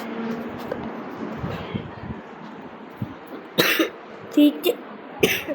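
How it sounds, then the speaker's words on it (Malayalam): Several sharp, harsh coughs burst out in the second half, grouped in short fits over quiet background noise. "ചുമയാണ്"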